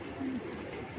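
A club pigeon gives a single soft, low coo, faint and close against a quiet room background.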